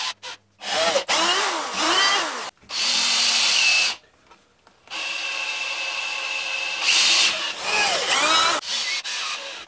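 Cordless drill driving confirmat screws into cabinet carcass boards, with several loud whirring bursts that rise in pitch, stop briefly, and start again close by.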